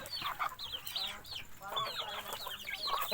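Native chickens clucking and calling near the microphone at a Philippine backyard farm, a busy overlapping flock chatter with faint background noise.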